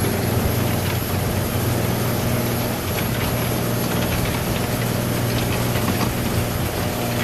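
A Seagull outboard-powered fishing boat runs at steady speed while setting a net for sardines, its engine a loud, continuous drone with a strong low hum and broad noise, unbroken and close throughout.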